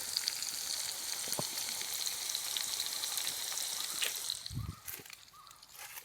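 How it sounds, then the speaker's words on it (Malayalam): Turkey chicken frying in a pan for a chicken curry gives a steady, close, crackling sizzle for several seconds, ending with a brief low thump and quieter sputtering. "നമ്മുടെ സൗണ്ട് വറക്കണ സൗണ്ട് നമുക്ക് എടുക്കാം കറക്റ്റായിട്ട്"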